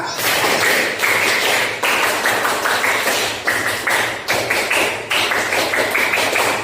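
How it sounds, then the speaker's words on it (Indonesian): A classroom of students performs the Pramuka scout clap, a loud, close group clap beaten in quick rhythmic bursts that repeat in a steady patterned cycle, with no talking over it. "coba tepuk pramuka dulu"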